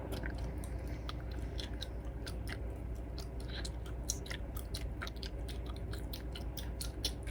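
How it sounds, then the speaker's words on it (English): Gum is chewed loudly and wetly, with a steady stream of close smacking and crunching bites continuing without a break. "Why do you have to chew gum like that?"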